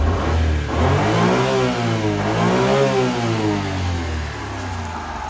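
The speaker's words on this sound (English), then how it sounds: "I'm gonna rev up the engine a bit." A Honda Acty HA4 kei truck engine revs up twice in smooth rising and falling swells over a steady idle, close and fairly loud, settling back down at the end.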